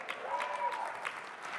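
A conference audience applauds faintly, a soft, distant patter of clapping with a voice faintly over it.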